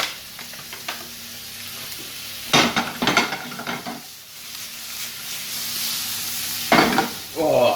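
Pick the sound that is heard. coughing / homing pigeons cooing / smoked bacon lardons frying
smoked bacon lardons frying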